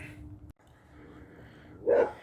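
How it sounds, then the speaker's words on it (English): A dog gives a short bark or yip near the end, barking at cats, following a brief stretch of quiet background noise. "dogs are still barking at cats."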